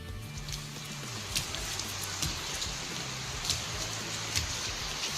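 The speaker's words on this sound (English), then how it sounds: "11-year-old Anthony Madu nailed his leaps and spins while dancing barefoot in the rain" Steady rain patters on a hard surface outdoors, a dense even hiss with scattered louder drops and a low background hum underneath.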